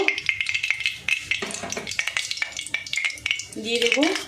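Oil heats in a pan for frying fish, with crackling sizzle mixed with stirring and clinks of a utensil against the pan, fairly close and steady.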